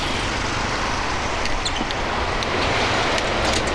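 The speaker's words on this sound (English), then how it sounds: "Cars never stop one, there's no traffic light here." Continuous road traffic rushes past on a Singapore street with no traffic light, a dense, steady roar of passing cars with no breaks, loud and close throughout.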